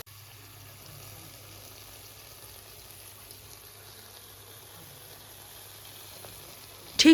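Fish curry with helencha greens and small fish simmers in a pot, giving a faint, steady bubbling and sizzling hiss throughout, with a brief louder clatter at the very end.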